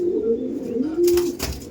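A pigeon coos up close in a loft, with two drawn-out, low, throaty phrases, followed by brief rustling bursts like shuffling feathers.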